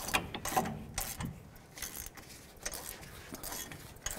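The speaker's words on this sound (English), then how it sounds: "and then we'll just wrench it right off of there." Rapid metallic ratcheting clicks from a wrench loosening a front wheel hub bolt on a Chevy Silverado, in short bursts with brief pauses; close and moderately loud.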